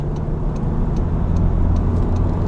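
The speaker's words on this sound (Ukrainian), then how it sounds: "Попробуємо зробити обгін. Зараз виїжджаємо." Skoda Octavia A7 with a 2.0 TDI diesel and DSG gearbox pulling out to overtake in sport mode, a steady low cabin drone of engine and road noise with faint ticking, no talk.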